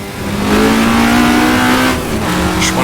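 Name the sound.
Alfa Romeo GTA engine revving in second gear, Assetto Corsa video game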